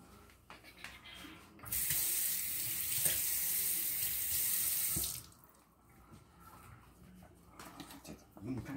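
A kitchen tap runs hard for about three seconds as fresh produce, including strawberries and blueberries, gets rinsed, then shuts off to quieter handling sounds.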